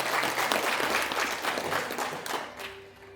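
Audience members at a rally in a National Assembly office-building conference hall give a brief round of applause, a dense burst of many hands clapping that fades out after a few seconds.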